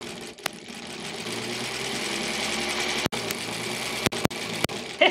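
A 1938 Kenmore model 38 sewing machine stitches half square triangle quilt pieces with a steady, fast mechanical whir close by, broken by a few short pauses and clicks toward the end; no one speaks.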